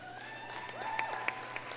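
Applause from a union convention audience, steady and moderate, with tonal music running underneath and a few sharper claps standing out.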